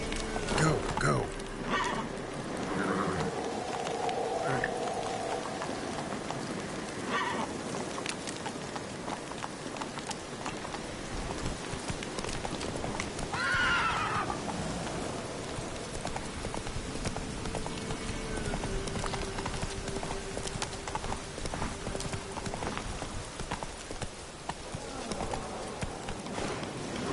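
Hooves clop at an uneven riding pace in The Witcher 3, moderately loud against a rainy outdoor backdrop with scattered bird calls and a few short game sounds.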